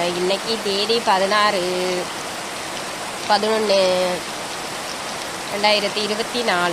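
Steady heavy rain pours down over a village on a November day, a constant wash of falling water beneath someone speaking in Tamil in pauses.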